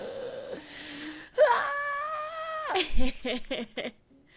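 Startled house cats let out a brief wailing, moaning cry with a sustained yowl, followed by scuffling, close and fairly loud in a quiet indoor room, with no talking over it.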